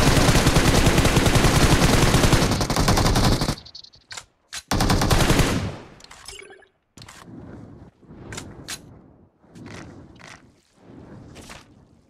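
Gunfire in the mobile battle royale game PUBG Mobile: a loud, sustained burst of automatic fire, then shorter separate volleys and single shots with brief pauses between them.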